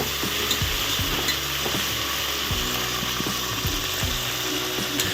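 Tomato and onion fry in oil for an egg biryani, giving a steady hissing sizzle broken by regular scraping and clacking strokes of a stirring spoon against the pan.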